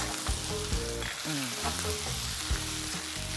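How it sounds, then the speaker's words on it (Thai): Tofu skin, peas and tomato are stir-fried in a loud, steady sizzle with scraping spatula strokes and clanking pan sounds up close. "ใส่ลงไปฟองเต้าหู้ ถั่วลันเตา มะเขือเทศ ลงไปหมดนี่เลย ทำการผัด"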